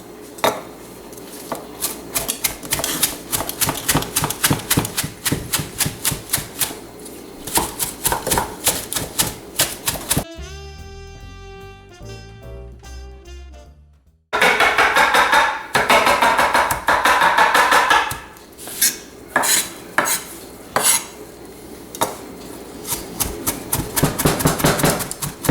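Basil is chopped with two knives held together on a cutting board, producing rapid rhythmic clacking chops in dense bursts, interrupted midway by a few seconds of background music before the fast knife strikes resume.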